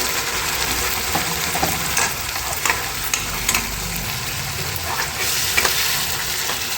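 Onions and ground masala paste for chana masala frying in a pan, a loud continuous sizzle with scattered stirring clicks and scrapes, close up and without speech.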